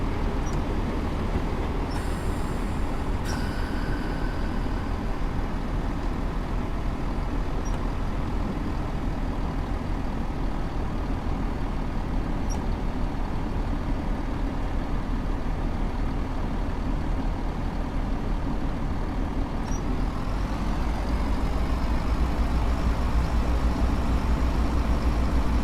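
A train is driven on the Thames Valley branch lines in Train Sim World 6, a steady loud engine and rail rumble that runs throughout, with a few faint high clicks and tones over the top.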